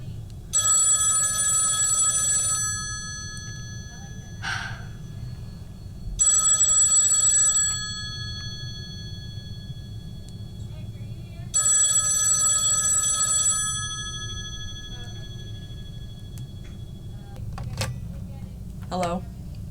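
A telephone rings in a staged radio-drama scene, three long bursts of bright electric bell separated by pauses, loud and close, with a few brief knocks and clicks near the end.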